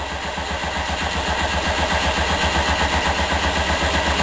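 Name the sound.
rhombic drive Stirling engine running up to operating temperature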